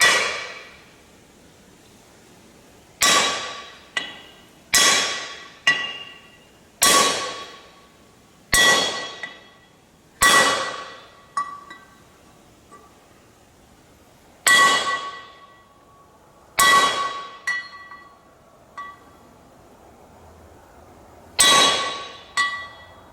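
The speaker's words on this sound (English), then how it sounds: "I've got this socket here that hopefully is going to work for a bushing driver." A socket used as a driver is hammered against a new spindle bushing on a Ford 5610 tractor. About a dozen sharp, ringing metallic strikes come in irregular clusters, each one close and loud with a brief clanging decay, and nobody speaks.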